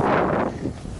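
Wind gusts across a slippery boat deck during a stormy sea crossing, a loud, rushing buffet that booms against the microphone and then eases to a steadier roar.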